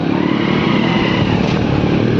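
A motorcycle being ridden on a road gives a close, steady, loud engine drone with rushing noise, unbroken for the short stretch.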